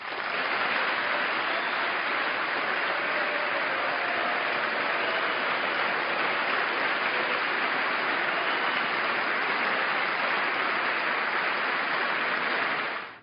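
Sustained, dense applause fills a large hall during a presidential address, a steady roar of many hands that holds at full volume throughout and fades only at the very end, with no talking over it.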